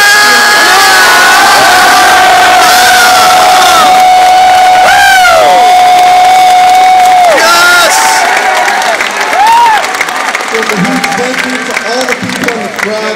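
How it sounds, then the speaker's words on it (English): Loud crowd at an MLG gaming tournament event in Columbus, cheering, whooping and applauding in a large venue, with shouted voices and an amplified voice over the noise, then continuing clapping and cheers as it eases slightly. "And a big round of applause."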